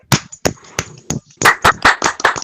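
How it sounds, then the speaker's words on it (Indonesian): A burst of applause in a classroom: several sharp, separate claps at first, then a denser run of hand claps from a small group, fairly close. "berikan tepuk tangan teman"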